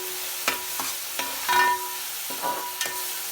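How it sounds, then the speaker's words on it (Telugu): Tomato paste frying in a pan for Andhra-style fish curry, a soft steady sizzle with light stirring taps and scrapes of a spoon. "ఇప్పుడు ఇది కూడా వేసేసి బాగా వేయించుకుందాము."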